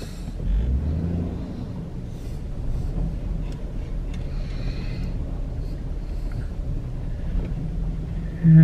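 2007 Hyundai Santa Fe with a five-speed gearbox backing up in reverse, a low steady rumble with wind buffeting the microphone throughout and a thump at the very end.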